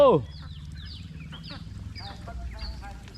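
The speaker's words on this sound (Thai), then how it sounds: "เป็ดไล่ทุ่งครับตอนนี้ลงคลอง" A flock of free-range field ducks and fowl calling in scattered quacks and honks outdoors by a canal, with a steady low rumble of background noise throughout.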